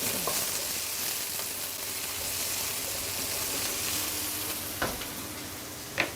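Curry ingredients for a coconut chicken curry sizzle steadily in a pan as they are stirred, with a couple of brief utensil knocks near the end and no talking.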